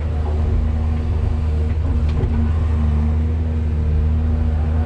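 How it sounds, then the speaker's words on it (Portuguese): A Caterpillar hydraulic excavator filling its bucket and loading a truck, with a heavy, steady diesel engine rumble and hydraulic strain, loud and close throughout with no talk. "Vou encher a concha"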